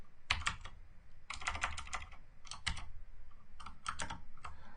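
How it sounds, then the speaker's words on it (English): Rapid keystrokes on a computer keyboard during a PowerShell 3.0 session, clattering in several quick bursts with short pauses between them, close and alone with no talk. "start typing"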